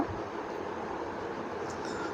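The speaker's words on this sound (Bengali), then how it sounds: "এক পাশ দিয়ে ট্রেন যাচ্ছে" A train passes beside a road where auto-rickshaws wait, a continuous low rumble and rolling drone held at steady loudness through the clip, no talk.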